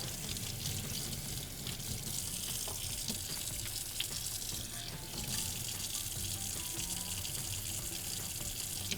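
Tap water runs steadily into a kitchen sink while hands are washed after handling beef for satay, a continuous close splashing flow with small clinks and shifts throughout.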